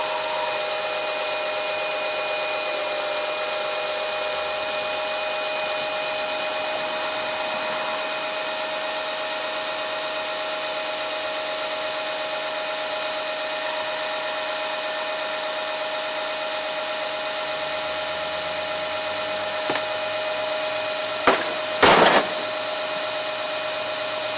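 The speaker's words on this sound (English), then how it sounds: "you can also hear the difference in the pump when you know it's done sucking" A pump runs steadily while a John Deere JS25 walk-behind mower is serviced, giving a constant even hum that holds throughout, with a couple of short knocks and a brief burst near the end.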